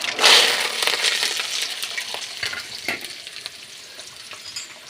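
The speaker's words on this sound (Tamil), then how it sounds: "எண்ணெய் காஞ்சிச்சு கடுகு போட்டுக்கலாம் அடுத்து இந்த பூண்டு வெங்காயம் கருவேப்பிலை எல்லாம் ஒட்டுக்காக போட்டுக்கலாம்" Mustard seeds, garlic, onion and curry leaves hit hot oil for a village-style brinjal kara kuzhambu, bursting into a loud crackling sizzle that slowly settles into a softer hiss, with a few scraping stirs. No speech.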